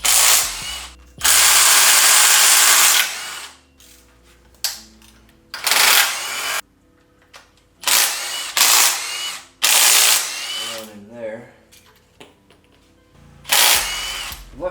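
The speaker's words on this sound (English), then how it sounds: "I'm gonna come here and take off all these timing cover bolts" Power tool, likely an impact or ratchet gun, spinning out timing cover bolts on a Honda K24 engine in an Acura TSX, heard as several loud close bursts of whirring rattle separated by quiet gaps.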